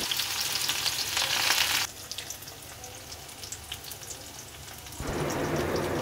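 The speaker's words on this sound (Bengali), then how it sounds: "এবার এটাকে ভালোভাবে নেড়ে চেড়ে একটু লাল লাল করে ভেজে নেব।" Chopped onion fries in a pan while being stirred until reddish. A loud, bright sizzle fills the first two seconds, drops to a quieter crackle, then swells again near the end.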